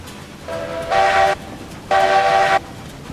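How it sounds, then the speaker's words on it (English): A steam locomotive in the Railroads Online game, hauling raw iron up a grade, sounds two loud sustained whistle blasts, each opening with a softer lower tone, over a steady low rumble of the train. "Definitely a little bit of a tough climb for a single locomotive, even on these much lighter raw iron."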